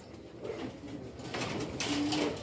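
Racing pigeons coo softly in a loft, with a few low, faint coos rising over steady background noise.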